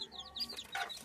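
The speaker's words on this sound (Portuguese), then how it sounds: "Esses pintinhos que essa cocota chocou." Hen with her newly hatched chicks in a pallet-built henhouse, giving soft clucks and high chick peeps that blend together at close range over about a second.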